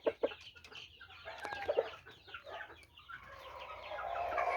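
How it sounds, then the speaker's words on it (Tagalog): Chickens in a small backyard poultry coop cluck noisily, a busy overlapping chorus of close hens with brief louder squawks and a rising, steady clamor toward the end. "Hala, naiistorbo ko yata sila kaya ang ingay nila."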